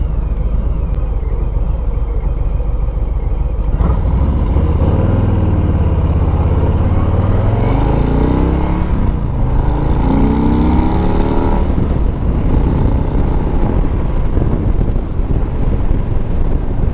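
A 2021 Harley-Davidson Street Bob 114 motorcycle engine rumbles loud and close while riding, with rising and falling rev sweeps through the middle and steady wind buffeting throughout.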